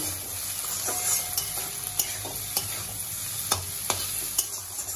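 Chow mein vegetables with chilli powder, a little sugar and turmeric are mixed in a hot pan: steady frying sizzle, a dozen sharp spatula clacks against the metal at uneven intervals, close, with no speech.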